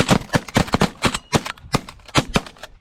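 Shotguns fire at pigeons during a hunt, a rapid series of loud, sharp blasts in quick succession with brief gaps, close by and with no talk between shots.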